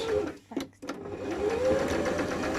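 A top-loading treadle sewing machine stitches fabric with a fast, steady mechanical whir and rattle, stopping briefly for a moment before picking up again.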